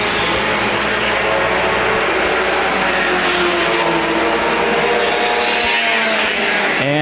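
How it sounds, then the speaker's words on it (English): Front-wheel-drive compact race cars in a CRA championship race at Winchester Speedway, engines droning loudly and continuously as a pack of cars runs together, with tire noise mixed into the steady roar. "Now it is the 13 of Shelmadine making it to the three-car battle for second."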